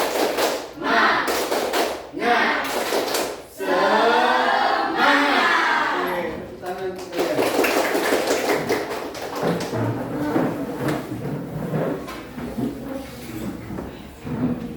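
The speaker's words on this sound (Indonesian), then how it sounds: "Tepuk semangat." Students in a classroom doing a rhythmic spirit clap routine, bursts of patterned clapping and chanted group shouts, loud and close, with a teacher's voice between rounds.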